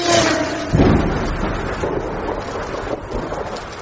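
Heavy rain pours steadily while a deep roll of thunder rumbles near the start, loud and close with no voices.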